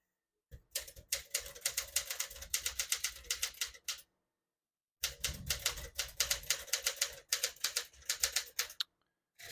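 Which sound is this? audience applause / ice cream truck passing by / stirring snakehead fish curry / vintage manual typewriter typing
vintage manual typewriter typing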